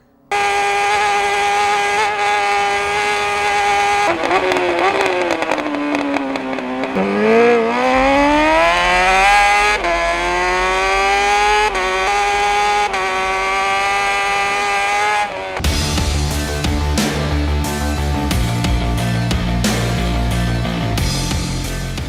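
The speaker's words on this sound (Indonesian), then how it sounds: "Balapan motor satu ini menjadi salah satu balapan dengan lintasan terganas di dunia." Racing motorcycles at the Isle of Man TT on a road course, loud engines whining and rising in pitch as they pass, followed by a burst of harsh, rapid revving near the end.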